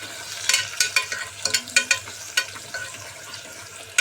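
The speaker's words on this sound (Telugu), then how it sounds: "ఉల్లిపాయలు బాగా రెడ్ కలర్గా వేగాలన్నమాట" Onions and curry leaves fry in oil for a mutton curry, a low sizzle under a run of sharp spoon clanks and scrapes against the pan, close up, with no voices.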